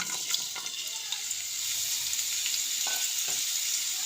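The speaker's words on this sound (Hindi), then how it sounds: "शिमला मिर्च को हमने हल्का सा फ्राई कर लिया है घी के साथ।" Capsicum frying in about two tablespoons of ghee in a kadai: a steady, close hiss of gentle frying with a couple of faint scrapes, fairly quiet.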